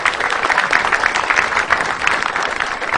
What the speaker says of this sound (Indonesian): tepuk tangan dong buat saya